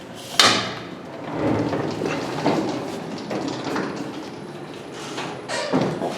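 Doors of a 1960s OTIS traction freight elevator operate with a loud opening thud, then rumbling, sliding and clanking movement, and a final bang near the end.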